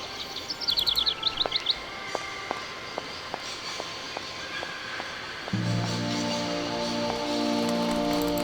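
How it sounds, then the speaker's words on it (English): Cuckoo birds in the video game Syberia give a quick burst of repeated high chirps, followed by a steady ticking rhythm and a low droning game ambience that swells near the end. "Oh my goodness, killer cuckoo birds."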